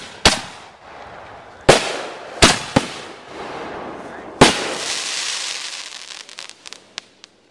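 Backyard Fourth of July fireworks go off in a series of sharp, loud bangs, about five big reports spaced irregularly, followed by trailing crackle and a few smaller pops toward the end.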